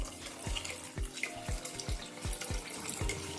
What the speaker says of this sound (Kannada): ಇದರಲ್ಲಿ ಇನ್ನು ಸ್ವಲ್ಪ ನೀರನ್ನ ಹಾಕೊಂಡ್ಬಿಡ್ತೇನೆ.